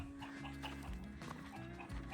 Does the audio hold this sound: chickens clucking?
yes